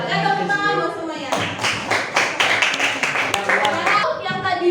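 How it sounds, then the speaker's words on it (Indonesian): Students in an accounting and finance classroom clap for classmates, a short burst of uneven, close handclaps after a teacher's voice, fading as the applause trails off. "tepuk tangan buat semuanya"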